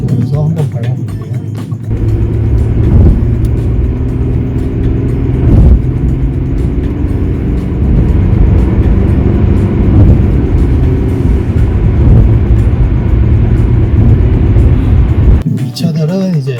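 A twenty-year-old Hyundai Grandeur XG sedan accelerating under throttle, its engine a loud, steady drone that holds for most of the stretch before easing off near the end.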